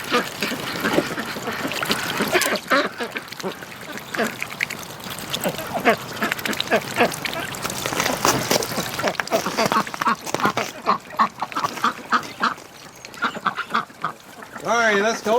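Ducks quacking on a windy breeding farm near a muddy puddle, repeated rough calls under steady wind noise with some talking nearby.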